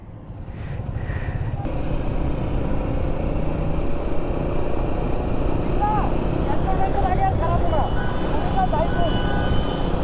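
A convoy of 24 motorcycles rides on the road from Dhaka to Bandarban, Bangladesh, producing a loud, steady engine drone mixed with wind rush. People talk over the constant roar.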